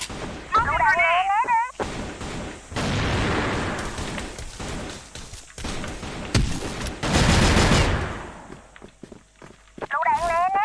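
Smoke grenades and gunfire in a first-person shooter game, with dense bursts of shots, footsteps and blasts crowding together, heavy and loud throughout, under a voice that talks and calls out.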